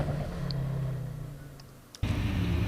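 A hillclimb race car powers up through the gears toward the finish line at a British speed hillclimb. The engine drones steadily, then cuts off briefly before a sharp return to full, louder acceleration.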